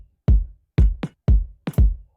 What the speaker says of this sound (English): And I added a tom on top.